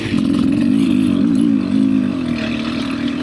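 A 2024 Beta 300 RR Race Edition two-stroke dirt bike revs hard in fourth gear with a loud, steady, buzzing engine drone close by that wavers slightly in pitch, and no talk.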